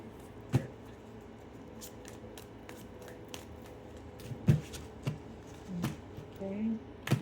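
Tarot cards are shuffled close up in a quiet room, with soft repeated riffling and sharper snaps at irregular intervals, while someone speaks quietly at times.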